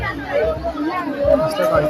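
A dense crowd of devotees packs a temple in Lonavala on a Sunday, their steady chatter and overlapping voices forming a continuous murmur close around.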